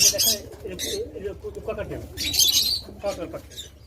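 Pigeons and other cage birds at a pigeon farm coo and chirp faintly in short bursts, with someone talking over them throughout.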